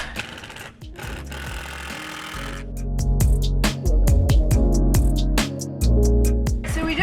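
A power drill whirs in repeated bursts while driving screws into the wall studs of a DIY camper van build, loud and close, with short pauses between runs.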